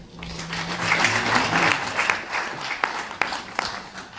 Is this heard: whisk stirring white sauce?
no